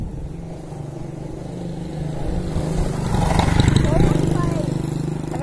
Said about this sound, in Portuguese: Espera a moto passar. É a moto do João Rick.